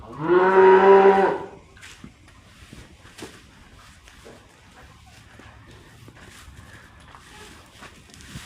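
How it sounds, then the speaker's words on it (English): One loud, drawn-out cow moo opens, lasting about a second, then fades into quiet outdoor ambience with faint scattered knocks and distant sounds. "so we've got a couple of cows"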